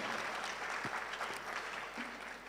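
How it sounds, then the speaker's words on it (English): An audience at a university research week event claps together, a dense and even burst of applause lasting a couple of seconds and fading slightly toward the end. "Can we clap for the Lord for bringing us this far?"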